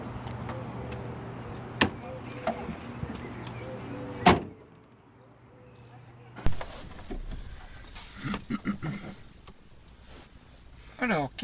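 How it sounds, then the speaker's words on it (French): A car bonnet slams shut once with a sharp, loud thud near the middle of a quiet stretch around a stationary vehicle during a driving test check, with voices and shuffling before and after. "Je vous laisse refermer le capot."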